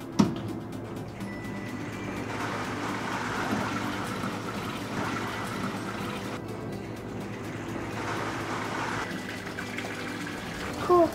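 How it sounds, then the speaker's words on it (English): Water flows through pipes and valves toward a spin wheel in a steady, moderate wash of running liquid, with brief clicks and a slight swell near the start and end. "when I press the button, you're gonna actually see water flow all the way to the end into the spin wheel over there"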